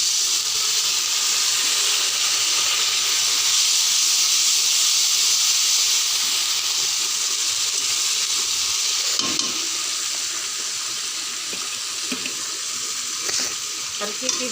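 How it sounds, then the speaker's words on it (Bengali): A little water poured into a hot pan of fried onions bursts into a loud, close steaming hiss that gradually settles into quieter bubbling, with brief knocks near the end. "এবার সামান্য পরিমাণে একটু জল দিয়ে দিব"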